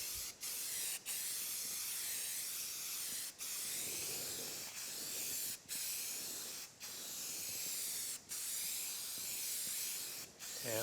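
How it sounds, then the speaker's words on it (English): Spray primer is applied in steady hissing bursts to a horizontal boring mill tailstock during paint prep, with about eight brief pauses between passes, close and continuous, no talking. "we'll just go ahead and put a coat of primer on this"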